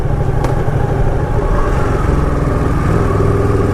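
A Ducati 959 Panigale engine drones loud and steady while riding through Cambridge, a constant throaty rumble with wind noise and no pauses.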